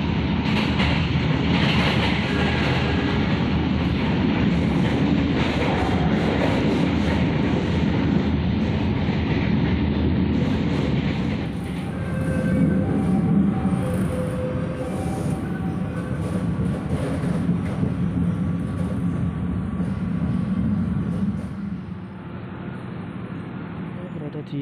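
Pasuruan commuter train runs on rails with steady rumbling and clickety-clack rhythm, loud and close, easing somewhat partway through; a voice speaks over it at times.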